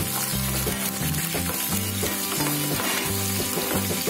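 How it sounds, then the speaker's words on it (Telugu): Chopped onion hits hot oil with urad dal, green chilli pieces and curry leaves, giving a loud, continuous frying sizzle throughout, with kitchen music playing underneath. "ఒక ఉల్లిపాయను చిన్న చిన్న ముక్కలుగా కట్ చేసుకుని వేసుకోవాలి"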